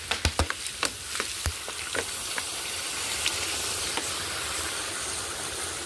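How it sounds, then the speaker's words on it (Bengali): Water poured into a pan of frying soybean and potato curry, a few sharp crackles and pops at first giving way to a loud, steady hissing sizzle that fills the rest, close by. "এবার আমি এর মধ্যে দিয়ে দেবো পর্যাপ্ত পরিমাণে জল।"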